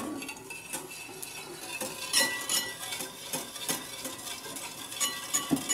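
A spoon stirs hot milk flavoured with orange blossom water in a pot, giving repeated clinks and scrapes against the metal in an irregular rhythm, close and fairly loud with no voices.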